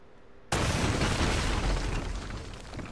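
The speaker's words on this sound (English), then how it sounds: "Haha, gun go pew pew" A sudden loud blast of gunfire in Uncharted, starting abruptly after a quiet moment and rolling on as a heavy, booming, sustained burst that slowly tapers off, with no voices.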